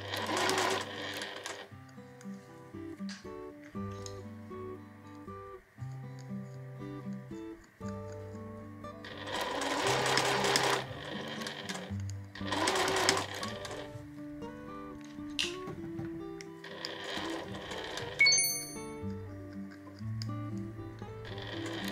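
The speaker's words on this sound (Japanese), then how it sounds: "目打ちで整えながらギャザーの上を縫っていきます。" A sewing machine stitches over gathered fabric, its motor whirring in close bursts with steady tones that start and stop several times across the stretch.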